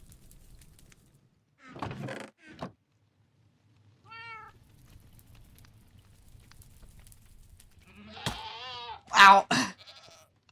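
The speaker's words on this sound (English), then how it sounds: "The goat." A goat in the game Minecraft bleats in a few short wavering calls near the end, mixed with other brief game sounds over a quiet background.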